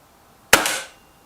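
A BSA TS Ultra air rifle fires a single sharp shot, a close, crisp crack with a brief decaying tail, alone against quiet background.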